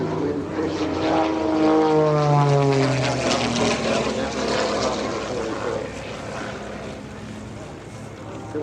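A propeller aerobatic airplane in an upright spin at an airshow, its engine drone loud and sweeping downward in pitch as it passes, then settling into a steady distant hum with faint talk underneath.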